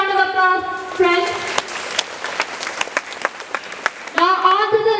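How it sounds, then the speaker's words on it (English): A school assembly audience gives a round of applause, a burst of many hands clapping under and between a voice, loud and close for a few seconds before speech resumes. "Let's have a round of applause, friends."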